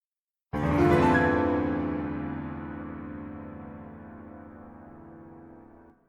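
A single rich keyboard chord struck once, layered piano with a slightly detuned shimmer and bright plucked harpsichord edge, ringing out and slowly fading.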